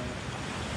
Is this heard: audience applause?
no